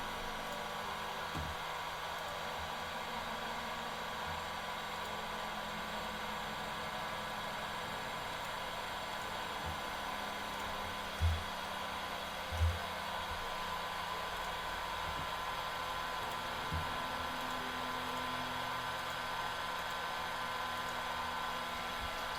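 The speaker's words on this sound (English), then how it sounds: "break out the old heat gun" A heat gun blowing hot air in a steady, unbroken roar that continues at even loudness throughout, with a couple of soft thumps partway through.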